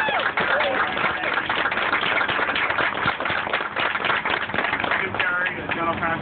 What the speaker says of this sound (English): for the Burley Brothers, let's give them a big, big round of applause.